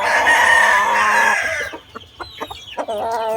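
A green-legged gamefowl rooster lets out one loud, drawn-out crow close by, followed by a few short clucks and scuffling sounds, with no talking.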